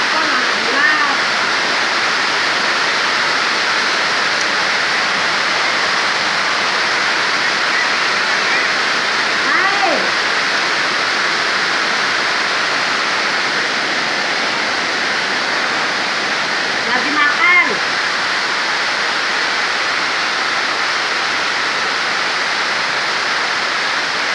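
Heavy rain pours steadily and loudly as a dense, unbroken hiss during a family meal, with faint voices barely surfacing now and then.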